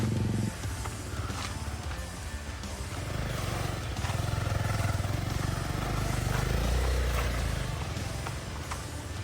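A Hero Xpulse 200 4V motorcycle rides off-road over inclined terrain, its engine a continuous close rumble with rough, uneven throttle and clattering from the ground throughout.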